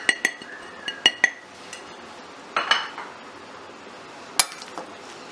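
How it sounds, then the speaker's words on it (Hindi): Minced meat mixed with spices in a bowl: a handful of sharp clinks and taps of a spoon against the bowl, spaced irregularly with quiet gaps and soft squelchy mixing between, close and fairly faint, no talking. "सब चीजों को अच्छे तरीके से हम मिक्स करेंगे"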